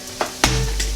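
Vegan sausage crumbles with ground sage, cumin, black pepper and garlic powder stirred around a pot, giving a brief close scrape and a sudden loud sizzle that carries on steadily, with no talking.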